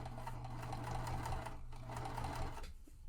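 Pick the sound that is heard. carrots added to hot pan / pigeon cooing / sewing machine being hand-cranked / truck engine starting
sewing machine being hand-cranked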